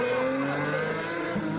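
A Porsche rally car with a flat boxer engine runs at race pace, a loud continuous engine drone with shifting harmonics and a brief rough patch near the end. No voices.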